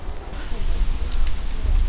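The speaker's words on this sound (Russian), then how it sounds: "какой-то нескончаемый дождь." Rain falls in a steady, soft patter of drops, with a faint rumble underneath.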